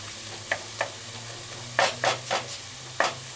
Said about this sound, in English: you just stir in the vegetables on the side